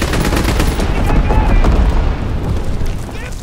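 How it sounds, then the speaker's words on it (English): Incendiary bombs burst in Call of Duty WW2 multiplayer amid dense gunfire, with a loud, continuous rumble of explosions and crackling shots filling the scene, and a voice faintly audible underneath. "Enemy bomber approaching. Incendiary bombs incoming."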